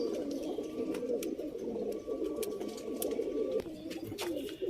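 Male Tamral (Tirol) pigeon cooing steadily in a loft, a continuous low throaty warble close by, with faint background bird calls and no talk.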